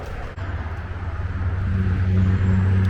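Heavy road traffic passes a roadside restaurant, with trucks going by. A loud, steady low engine rumble swells and grows louder toward the end, with no talking.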